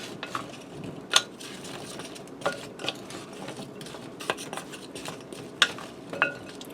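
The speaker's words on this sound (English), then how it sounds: "I'm going to toss these to coat them all in oil and in salt and pepper." Root vegetables tossed in olive oil, salt and pepper in a bowl, producing scattered soft rustles and a few sharp clinks and knocks at irregular intervals, close and fairly quiet.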